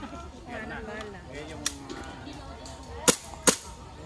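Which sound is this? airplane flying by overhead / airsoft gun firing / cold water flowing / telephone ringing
airsoft gun firing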